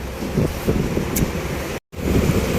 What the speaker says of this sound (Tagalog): Malaki na talaga ang alon mga buksit,